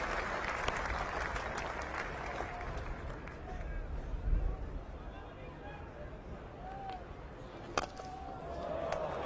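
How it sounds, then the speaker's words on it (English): A Trent Bridge Test cricket crowd applauds Sachin Tendulkar's century against England, sustained distant clapping spread across the ground, swelling briefly midway, with a commentator talking over it. "Warmly applauded by this Trent Bridge crowd"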